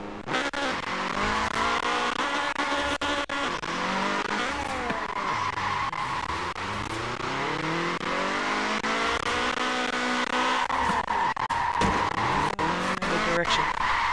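A car drifting in the racing game Forza Horizon 4, its engine droning steadily while the tires squeal and skid almost without pause, loud and close throughout.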